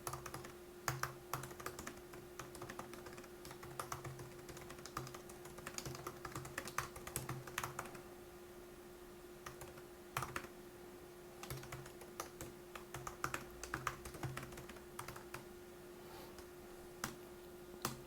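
CSS code being typed on a computer keyboard, quick soft clicking keystrokes in bursts with brief pauses, close and quiet over a faint steady hum.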